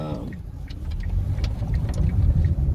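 A car driving slowly through school zones, its low engine rumble and road noise steady and close throughout, with a brief voice near the start.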